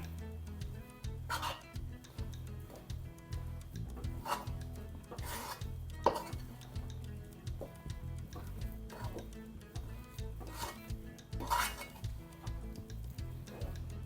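A spoon scrapes and stirs a crushed sesame mixture in a pan, giving continuous gritty rubbing with occasional sharper metallic clinks, close and moderately quiet.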